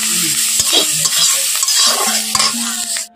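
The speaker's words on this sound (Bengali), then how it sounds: "এখন এখানে ক্যাপসিকামগুলো ভাজছি" Capsicum frying in a pan for Bengali-style fried rice gives a steady, close sizzle, with a spatula stirring and scraping through it in irregular strokes. No one talks.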